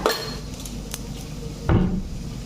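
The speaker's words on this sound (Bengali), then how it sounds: "কড়া একটা বসিয়ে দিলাম" A metal wok (kadai) set down on a home stove: a close, solid clank near the end after a sharper knock at the start, with faint kitchen clatter between.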